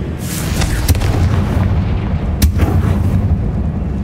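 A Confringo blasting spell explodes in Hogwarts Legacy, a loud booming blast followed by rumbling, with a second sharp crack partway through and a dense low roar continuing throughout.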